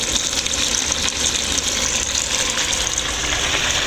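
The water pump of a Sisil SWM-FR72 washing machine runs, giving a steady, loud rushing whir of pumped water that holds unbroken throughout.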